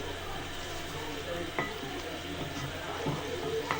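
Degi-style milk korma simmering and sizzling in a pot, a continuous close bubbling fry with a few brief utensil clinks, no voices.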